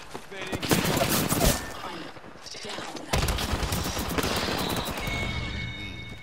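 Gunfire in the video game Apex Legends, dense bursts of automatic weapon shots crackling close and loud in two volleys, with a brief lull between them.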